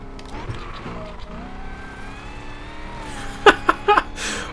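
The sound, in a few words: car exhaust note with tire squeal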